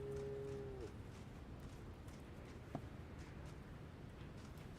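A cow lows once in the GAMEDEC video game during a farming section, a short sustained moo at moderate distance over a steady game background, with brief clicks later and no talk.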